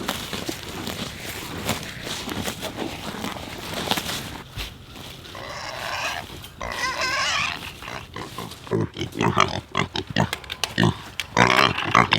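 Pig grunting on a family homestead where beef cows are being moved, with intermittent close snorts and grunts, rustling and footsteps, and a voice calling out repeatedly.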